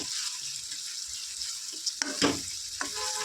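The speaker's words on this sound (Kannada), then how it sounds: "ಮಸಾಲೆ ಖಾರ ಇದೆಲ್ಲನೂ ಹಾಕ್ಕೊಂಡು ಚೆನ್ನಾಗಿ ಫ್ರೈ ಮಾಡ್ಕೊಂಡು ಬಿಡಬೇಕು ಎಣ್ಣೆಲೆ" Homemade masala spices frying in oil for potato dum biryani, a soft continuous sizzle close by, broken near the end by a few sharp clinks and scrapes of a spoon, no talking.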